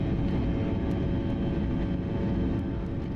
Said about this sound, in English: it is quite a dramatic takeoff from Kishangarh